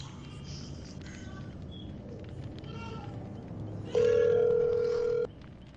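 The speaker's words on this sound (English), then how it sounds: "Let me phone someone." A telephone tone plays over a noisy background with faint chatter, a single steady electronic tone holding loud for about a second and a half before cutting off.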